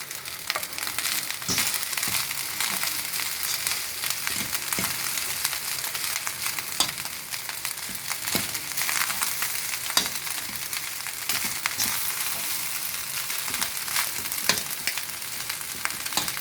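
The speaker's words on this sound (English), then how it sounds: "I'm going to stir it round so that we get each bit of rice with some oil on it." Egg fried rice with prawns frying in oil in a pan, a steady sizzle broken by repeated scraping and stirring knocks, close and moderately loud, with no talking.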